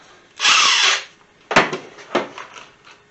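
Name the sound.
power drill driving number 8 wood screws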